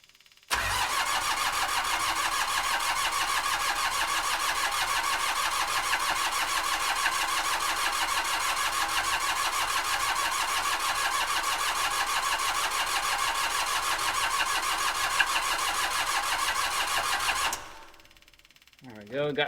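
The diesel engine of a 1995 Gehl 5625sx skid steer cranks over continuously with a rapid, rhythmic starter churn for a long stretch without catching, then stops abruptly.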